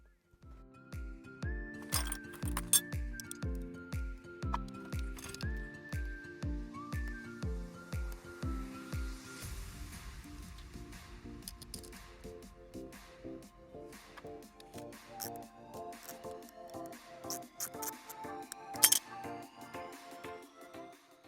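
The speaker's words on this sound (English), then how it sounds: "Now wiggle out the positive battery terminal." Positive terminal and 10mm nut being removed from the auxiliary battery of a 2010 Mercedes ML350 (W164): a fast run of regular ratcheting clicks, then scattered light metallic clinks and taps, close and quiet.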